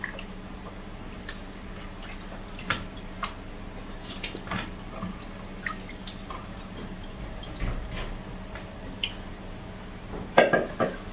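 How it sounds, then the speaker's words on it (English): Vegetables being washed by hand in a basin of water, with scattered drips, splashes and soft squishing at close range, plus a brief clatter of a dish near the end; no talking. "So this is typically how country people would wash their vegetables."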